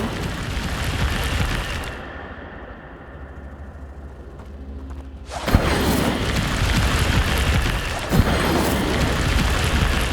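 An Incendio fire spell in Hogwarts Legacy bursts out as a loud whooshing blast of flame, a sudden roar that kicks in and holds over a continuous game soundscape, with a second sharp impact a few seconds later.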